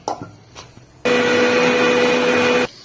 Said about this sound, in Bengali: এবার এটাকে গ্রাইন্ড করে নেবো